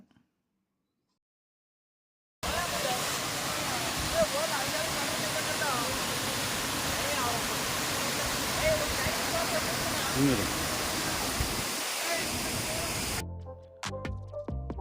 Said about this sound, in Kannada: ಇದರಲ್ಲಿ ನೀರು ತುಂಬ ಶೇಖರಣೆಗೊಂಡು ಸಣ್ಣ ಸಣ್ಣ ಜಲಪಾತವನ್ನೇ ಸೃಷ್ಟಿ ಮಾಡ್ತವೆ